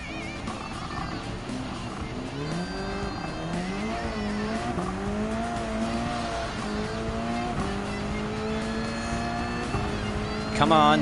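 Race cars in Gran Turismo 7 at Fuji International, including a Porsche 911 RSR Type 991, with loud engines rising and falling through gear changes and tire squeal, as someone talks over it.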